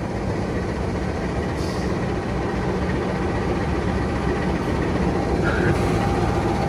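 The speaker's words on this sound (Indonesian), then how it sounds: "Masuknya bisa barengan gitu ya, balapan ya, antara kereta api Wijaya Kusuma dan kereta api Jayabaya." Two Indonesian passenger trains, the Wijaya Kusuma and the Jayabaya, pull into a station side by side, giving a loud continuous rumble of wheels and engines with faint rail clatter and no talk.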